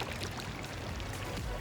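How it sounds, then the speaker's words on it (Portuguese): Steady water flow from a public drinking fountain in Zurich, a continuous splashing pour heard close and fairly quiet with no talking. "Espalhado pela cidade inteira tem várias fontes que a água é potável"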